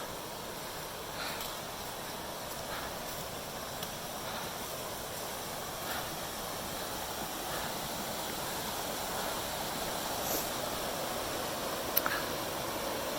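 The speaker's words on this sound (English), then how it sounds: "This beautiful waterfall." A waterfall in the Smoky Mountains roars steadily as a broad, unbroken rush of water, constant and fairly loud, with no voices over it.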